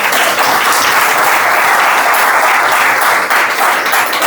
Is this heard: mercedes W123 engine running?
no